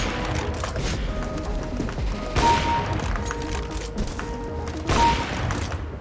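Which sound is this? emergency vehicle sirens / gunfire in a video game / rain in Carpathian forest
gunfire in a video game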